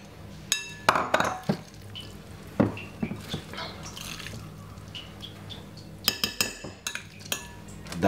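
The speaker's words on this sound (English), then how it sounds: "Give it a lovely little mix" Jamaican potato salad with egg being mixed in a bowl, heard as a close series of irregular utensil clinks and scrapes against the dish with a few brief pauses, no talking.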